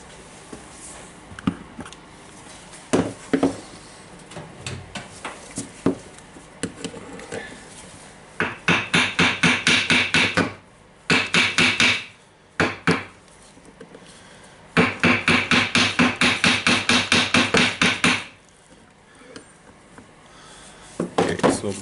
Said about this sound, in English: I will try to hold the cylinder and hammer it slightly.